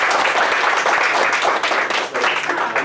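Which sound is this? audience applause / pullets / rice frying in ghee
audience applause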